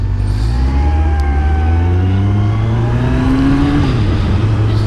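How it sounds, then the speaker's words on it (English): Another fire truck passes close by, its heavy engine roaring and shifting pitch, with a faint siren tone gliding above the rumble. "here comes another fire truck"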